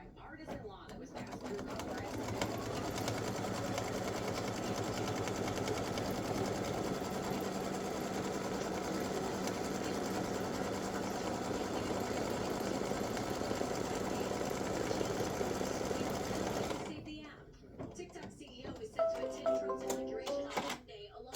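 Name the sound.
embroidery machine stitching seam line on fabric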